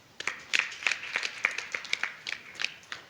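Audience applause at a school ceremony in Goudiry, Senegal, for the school director: a steady patter of many hands clapping at moderate volume, continuous for a few seconds without speech.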